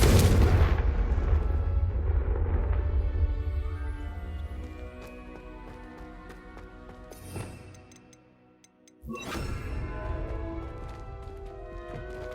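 A Confringo fire spell from Hogwarts Legacy explodes in a heavy boom that rolls off into a long fading rumble, followed by a couple of sharp cracks and a second burst near the end.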